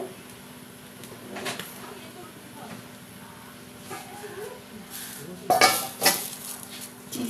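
A lid set over a pan of egg toast cooking on the stove makes a few sharp metallic clatters near the end, above a quiet kitchen background with faint stirring sounds.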